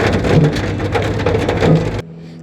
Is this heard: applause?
no